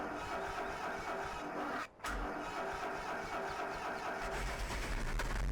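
An old Massey Ferguson 698 tractor engine in a video game cranks and catches, then settles into a steady, loud mechanical run with a brief dropout partway through; no talking.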